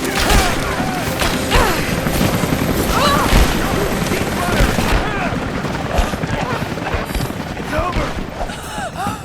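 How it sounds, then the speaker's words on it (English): Gunfire in the video game Rise of the Tomb Raider, dense bursts of shots and booming impacts crowding a busy combat mix, with a voice calling out over the noise. "I'm taking fire!"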